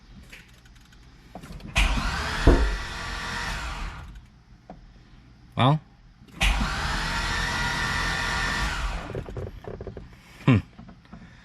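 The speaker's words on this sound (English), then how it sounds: "let's go ahead and try to start the car." A 2005 Chevrolet Corvette's starter cranks the engine in two long attempts of a couple of seconds each, a steady whirring drone close by that cuts off abruptly, with short bursts between them and a brief spoken word.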